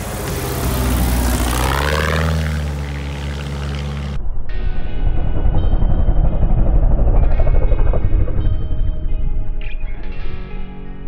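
A small airplane on a half-mile final comes in with a droning propeller engine whose pitch sweeps as it passes, then a busier engine and wind roar follows, fairly loud and close throughout.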